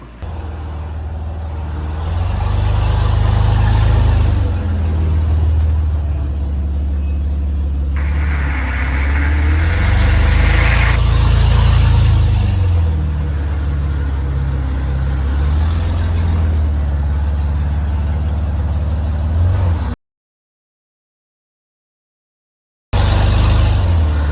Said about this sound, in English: I'm gonna turn on the air compressor, let it run, and move the truck up here to the top.